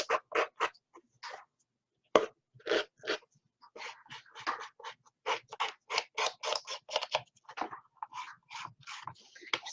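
Scissors trimming the edges of a paper mini album, a quick run of small crisp snips, close and quiet, with a short pause early on before the cutting picks up in a busy irregular rhythm.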